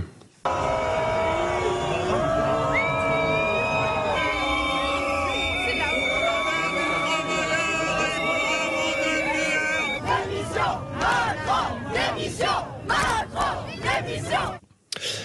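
A large outdoor crowd in Sélestat, Alsace chants a political slogan in unison, loud and rhythmic, with shouting and whistles; the chant later breaks into rhythmic bursts and clapping-like accents before trailing off.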